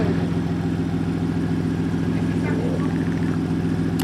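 Turbocharged 3.7 V6 Mustang engine idling, a steady, loud, close rumble with an even pulsing throb throughout.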